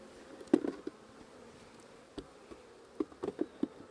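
Honey bees buzz faintly around a Mini Plus hive in short, scattered bursts over a quiet background.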